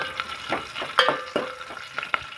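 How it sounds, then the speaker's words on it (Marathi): Onions frying in a pan until browned for an egg biryani, soft sizzling under repeated scraping and stirring clicks of a spoon against the pan, several short bursts in an uneven rhythm, no voices. "सगळं कांदा लाल होईपर्यंत आपण भाजून घेऊ"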